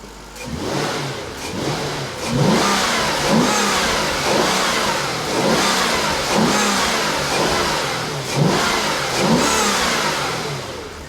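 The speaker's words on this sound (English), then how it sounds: "While it's running, door open and blip throttle." A Jaguar XK8 V8 engine idles, then its throttle is blipped repeatedly, each rev rising sharply and falling back, loud and close with a steady rumble between.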